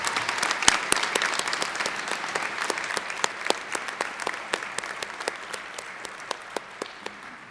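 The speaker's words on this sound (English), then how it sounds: "Would everyone please join me in giving a very well-deserved round of applause to all of our student honorees." A college convocation audience applauds student academic honorees, a dense steady wash of clapping with sharp individual claps standing out, fairly loud throughout and tapering slightly toward the end.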